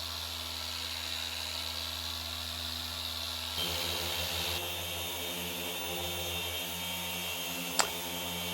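S20 machine polisher working on the bonnet of a Ford Ranger Wildtrak, a steady whirring motor drone that shifts pitch partway through, with a single sharp tap near the end, moderately quiet and without talking.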